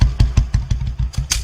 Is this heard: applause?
no